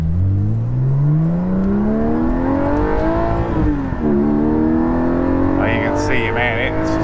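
A Porsche 718 GT4 fitted with a Soul Performance rear exhaust section revs hard while driving, pitch climbing steadily, briefly dipping on a shift, then rising again; loud and close, with a voice over it near the end.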